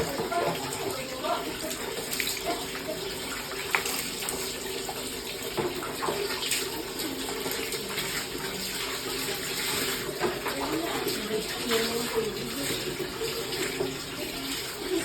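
Water runs steadily from a tap while a dog is bathed, a continuous close splashing flow with occasional sloshing throughout, and a voice speaks now and then underneath.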